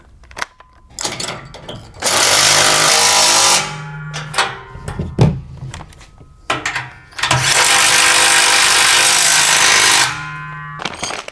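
Carriage bolts on a MicroSport Overland tent trailer being tightened with a 3/4 inch wrench, two long loud bursts of rapid ratcheting separated by shorter clicks and metallic knocks.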